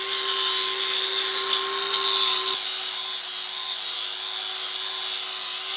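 Flap disc grinding and smoothing the edges of a JZ-to-VQ bell housing, a loud continuous abrasive whir with a steady tone that steps down in pitch partway through, no talk.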